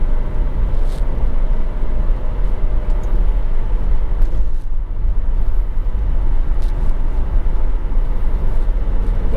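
A high-mileage 2018 Alfa Romeo Stelvio with a torque-converter automatic drives along, its loud steady engine and road rumble filling the cabin, with a brief dip in the drone around a quick gear change.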